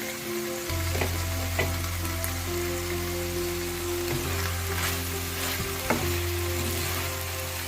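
Flat bean (sim) bhaji frying in a pan: a constant crackling sizzle with occasional scraping stirs of a spatula, close and steady throughout, no voices.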